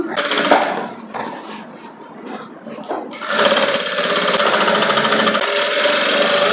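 Sewing machine stitching a princess cut blouse, its motor whirring in short start-stop bursts at first, then running in a long steady loud stretch with a constant hum.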